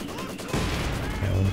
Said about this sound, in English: Maxim's opening up, getting some nice suppression here